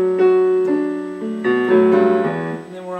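A piano plays a short song passage with both hands, several chords and single notes struck in turn, a steady moderate tempo, close and clean with no voices.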